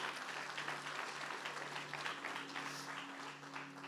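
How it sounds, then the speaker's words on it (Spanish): Sustained applause from a church congregation fills the space, steady clapping from many hands for about four seconds with a faint background hum. "Dense un aplauso"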